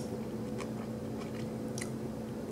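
Close, soft chewing and biting of a Starbucks chicken wrap, with quiet moist crunches and squishy mouth sounds at a steady, unhurried pace over a low background hum.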